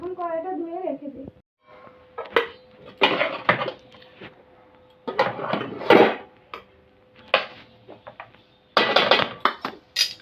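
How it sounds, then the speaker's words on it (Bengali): A kadai (wok) being washed, with intermittent metallic clanks, scrubbing and water splashes in short bursts and quiet gaps between them, after a voice at the start. "এখন কড়াইটা ধুয়ে রেখে দিই।"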